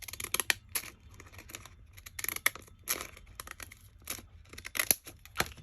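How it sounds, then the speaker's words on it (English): Small decorative craft scissors snip through paper in quick, irregular close-up cuts, with light rustling of the paper between snips. "These are those little decorative scissors."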